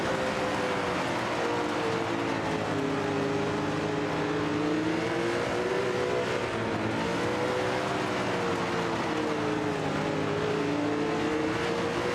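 A late model race car on a dirt track in the iRacing simulator drones with a steady engine note that rises and dips slightly in pitch, running continuously for about twelve seconds with no talking.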